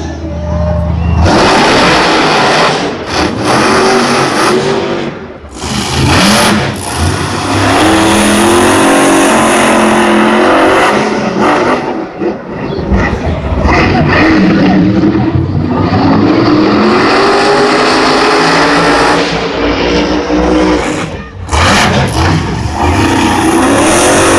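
Monster trucks racing head to head at Monster Jam 2015 in Gillette Stadium, Foxboro, with very loud roaring, revving engines filling the arena, brief drops between bursts and a crowd and announcer faintly underneath.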